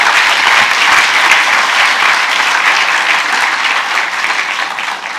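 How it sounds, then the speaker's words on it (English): A large conference audience applauds a keynote, steady, dense clapping filling the room for about five seconds and tapering slightly at the end, with no speech over it. "let's give them a special round of applause for flying halfway across the world"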